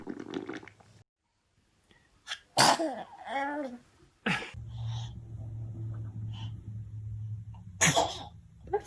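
Babies sneezing, a few sharp bursts separated by pauses, close and loud, with a steady low hum running underneath; some babbling and breathing sounds also appear.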